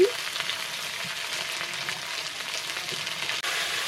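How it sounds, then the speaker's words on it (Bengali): Cumin paste with bay leaf and turmeric frying in hot oil in a village kitchen, a steady bright crackling sizzle running close and continuous, with faint stirring scrapes and no talk. "জিরে বাটাটা আমি তেলের উপরে দিয়ে দিলাম"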